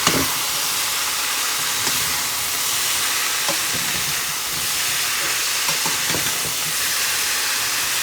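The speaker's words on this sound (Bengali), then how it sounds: "এইখানে ভাজা হচ্ছে মিষ্টি আলু শুধু লবণ দিয়ে" Sweet potatoes frying with just salt in a home kitchen, a loud, steady sizzle and hiss of hot oil with occasional soft clicks of stirring, no voices.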